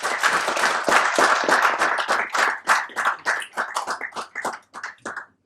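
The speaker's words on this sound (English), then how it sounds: "Everyone, please give him an applause." Applause at a seminar keynote, close and fairly loud, starting as dense clapping and thinning into scattered individual claps that trail off toward the end.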